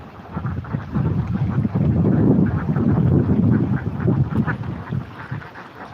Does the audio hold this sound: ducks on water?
yes